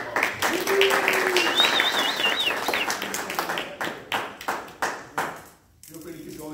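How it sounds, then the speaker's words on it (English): A Toastmasters club audience at an early-morning meeting applauds itself, with dense clapping through most of the stretch that thins into scattered individual claps before dying out, while voices and a brief whistle-like tone sound over it. "I think you guys should give yourselves a round of applause"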